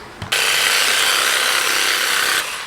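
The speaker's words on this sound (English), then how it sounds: "I'm currently rolling out my legs and doing the massage gun." A massage gun buzzes steadily and loudly for about two seconds, a constant rough whir, then cuts off.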